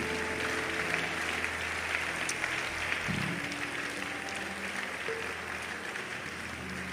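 A congregation claps and applauds at a June miracle church service, a broad steady wash of clapping that carries on evenly for several seconds, fairly distant and without speech over it.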